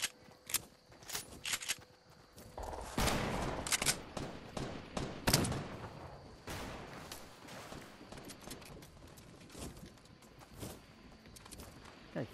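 Rapid bursts of gunfire from a teammate in an Army video game, irregular volleys crackling at mid distance with no talk over them.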